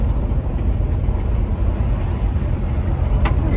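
A 1975 International Harvester 150 pickup drives along with a loud, steady engine drone and road rumble that eases off slightly as it slows down.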